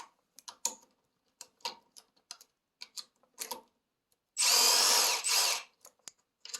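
On a Suzuki DR650 motorcycle, scattered small clicks from handling the lever are followed by two short, loud bursts of a power tool backing out the lever bolts.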